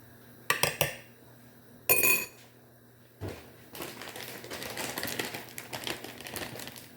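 Macaroni being served onto a plate brings sharp clinks and clatters of a utensil against the dish, then softer scraping and rustling handling sounds that continue quietly.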